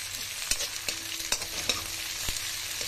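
Chopped ginger and green chilli fry lightly in a pan, a steady bright sizzle broken by sharp, regular clicks of stirring, close and clear with no voices.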